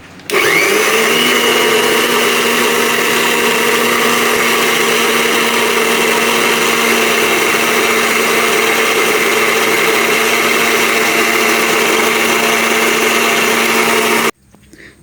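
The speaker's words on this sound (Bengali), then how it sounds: "রোস্ট রান্না করার জন্য কিছু পেঁয়াজ ব্লেন্ডার করে নিচ্ছি।" An electric blender grinds onions for a roast, a loud, steady motor whir with a high-pitched whine that runs continuously for about fourteen seconds and then cuts off abruptly.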